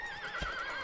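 A horse in Dragon Quest VIII gives a single clear whinny with a wavering pitch and a soft thud partway through, heard alone at moderate volume.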